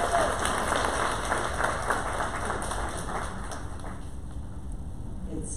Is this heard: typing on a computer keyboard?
no